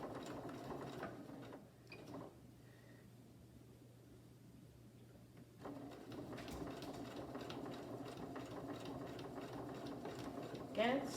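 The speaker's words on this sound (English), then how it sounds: "and start sewing" A sewing machine stitches a rag-edge quilt with a steady mechanical whir, pausing briefly partway before resuming its continuous hum; the sound is close but fairly quiet.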